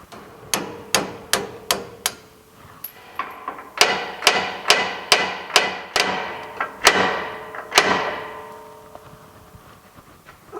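A hammer drives at a roll pin on a GMC motorhome, about fifteen sharp metallic strikes in quick rhythmic bursts, ringing close and loud with short pauses between groups.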